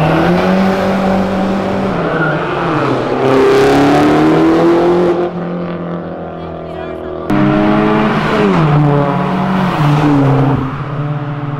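Motorcycle engine revved hard to the limiter in repeated loud bursts, pitch climbing and falling, with a short dip in the middle before another strong rev; close and dominant, with voices mixed in.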